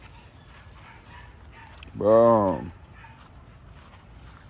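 A Lilac Tri puppy gives one short, loud yelping whine lasting under a second amid quiet outdoor background, with a person's brief exclamation nearby.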